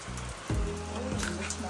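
Steady rain patters on a surface in a dense hiss, with a low hum and faint murmuring underneath.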